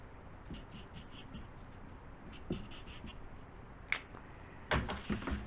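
A pen scratches fold lines in black onto a paper cube. Faint, close strokes come in short bursts, and a few light taps and handling noises follow.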